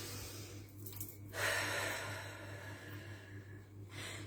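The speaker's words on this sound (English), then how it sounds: "Deep breath in." A single slow, deep breath drawn in through the nose, soft and close, rising into a breathy inhale that fades gently, with a low steady hum underneath.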